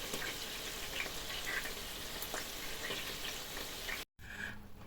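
Homemade meat cutlets sizzle and fry steadily in a pan, a dense close crackle with occasional pops, briefly cut off near the end before resuming more quietly.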